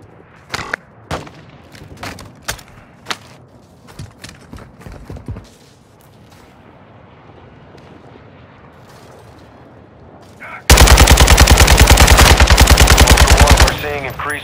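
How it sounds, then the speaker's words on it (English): Gunfire in the Call of Duty: Modern Warfare 2 DMZ mode on Ashika Island: scattered sharp single shots first, then a quiet lull, then a loud sustained machine-gun burst lasting about three seconds. "You are taking effective fire."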